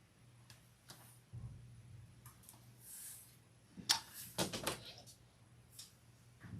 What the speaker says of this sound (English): I hear doors.